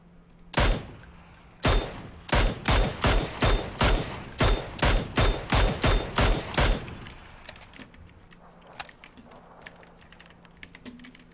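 Rapid bursts of gunfire in the video game PUBG ring out loud and close as about a dozen evenly spaced shots, then fade into quieter scattered clicks and faint distant pops.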